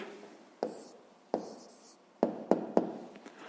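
A pen writes an answer onto paper during a fifth-grade maths exercise, giving soft close scratching strokes with sharp tapping onsets, about six distinct marks spread over a few seconds with no talking.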